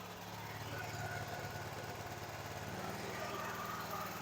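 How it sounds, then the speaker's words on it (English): A small generator engine runs steadily at close range, a continuous low droning hum with a buzzy, even texture and no break in level, set in a workshop beside welding gear. "Generator, go burr."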